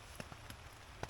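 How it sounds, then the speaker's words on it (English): Rain falls steadily at a campsite as a soft, even wash of faint noise, broken by a few sharper drops tapping close by. "when I got here, it was still raining"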